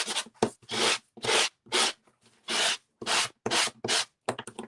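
Hand sanding of an embossed surface to expose its white core, a run of about ten rough, rhythmic back-and-forth rubbing strokes, close and loud with short pauses between them, no talking.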